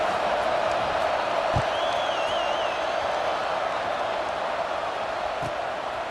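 A stadium crowd in EA Sports College Football 26 gives a steady, even roar of murmuring fans that stays constant throughout, with a faint whistle-like tone drifting above it briefly.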